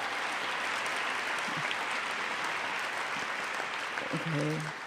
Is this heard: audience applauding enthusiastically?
yes